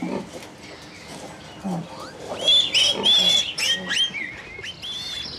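Pigs on a Danish farm squeal and grunt in irregular bursts, several overlapping shrill cries rising and falling at moderate distance, with quieter snuffling between them.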